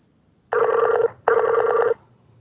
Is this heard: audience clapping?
no